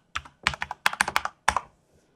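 An admin password is typed on a computer keyboard while a Hikvision IP camera is being set up, about a dozen crisp, close key clicks in two quick bursts, loud and clear with no talking.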